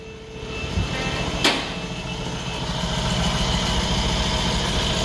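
A Mercedes E63 4matic engine idles on a dyno, a steady close rumble with a brief sharp click early on and a slight rise in level toward the end.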